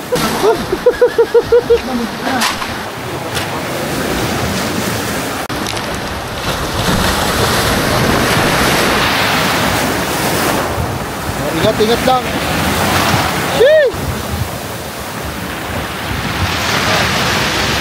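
Rough ocean waves surge and crash near Butas-Butas Cave, a broad roar of surf mixed with heavy wind buffeting the microphone, while people exclaim and call out briefly over the noise.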